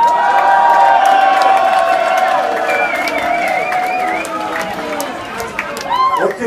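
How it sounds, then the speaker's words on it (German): At the final of a tournament, a crowd applauds and cheers loudly and nearby, with scattered claps and whooping voices that taper slightly toward the end. "geef me nog een applaus voor de finale"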